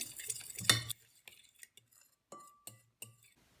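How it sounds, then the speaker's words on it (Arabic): Oil, brown sugar-free honey and spices for a roast chicken marinade are stirred in a bowl, a spoon clinking and scraping against the sides in short, close strokes, with quiet pauses between. "نبدأ نخلط كل المكونات دي كده مع بعض."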